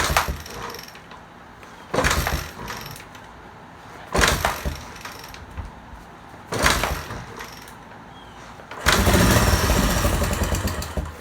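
A 1972 Honda XL 250 motorcycle engine, idle for about 35 years, is cold-started: three short, loud mechanical bursts spaced a couple of seconds apart, then a longer sustained run as it briefly catches, with no talk.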